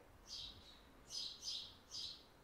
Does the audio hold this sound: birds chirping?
yes